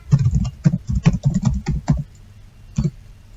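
Quick, close clicks of typing on a computer keyboard as a user ID is entered, in an uneven burst of keystrokes with a brief pause before a final press.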